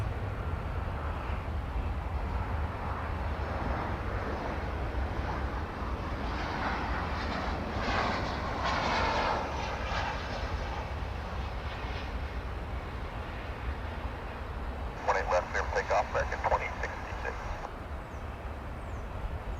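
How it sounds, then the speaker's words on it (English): American Airlines Flight 353, an airliner bound for Puerto Vallarta, flies past at DFW Airport as a steady, distant engine roar that swells in the middle and carries a brief rattling texture near the end. "that's American Flight 353, winging its way to Puerto Vallarta"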